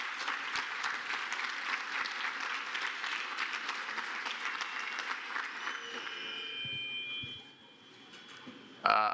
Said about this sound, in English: Can we give another round of applause for Sam for all the work that he's doing for our kids?